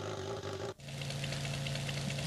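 A BMW R1200 motorcycle engine in a Brazilian motorcycle game idles with a steady low rumble and throb, briefly cutting out before settling back into a continuous even drone.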